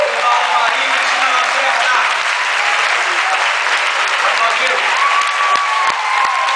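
Dense, loud audience applause fills a Mother's Day show, steady and continuous throughout with a few sharper claps near the end.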